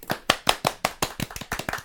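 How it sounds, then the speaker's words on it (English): About ten sharp hand claps in a quick, even rhythm, close and fairly loud, with no voices over them. "She needs a round of applause."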